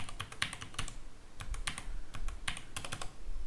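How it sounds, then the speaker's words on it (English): Computer keyboard typing as an IP address is entered: a quick, uneven run of close, crisp key clicks in short clusters with brief gaps, no voices. "here first type the IP address"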